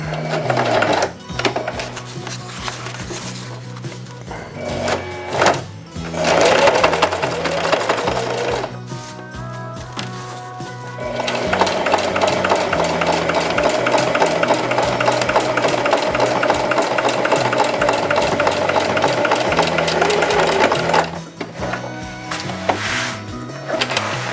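A sewing machine stitches a vest neckseal in long steady runs, its rapid needle chatter broken by short pauses and restarts, loud and close throughout.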